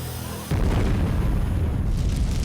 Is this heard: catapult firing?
yes